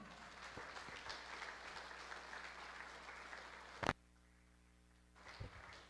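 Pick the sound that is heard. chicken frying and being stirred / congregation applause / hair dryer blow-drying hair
congregation applause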